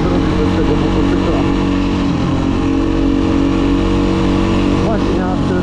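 Motorcycle engine running at the start of the riding season, a loud continuous close rumble filling the clip while someone talks over it.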